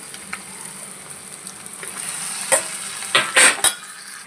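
Sliced onions fry in a pan for a pasta and spinach curry, with a steady soft sizzle and a few sharp scrapes and clinks as a spoon stirs them near the end. No one speaks.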